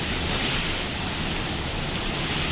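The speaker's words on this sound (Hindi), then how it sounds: "ये अल्लाह रहम करे, तूफान सा चल रहा है" Heavy rain pours down during a storm, a dense, loud, unbroken hiss of drops beating on surfaces with no pauses or voices.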